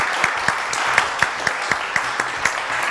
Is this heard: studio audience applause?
yes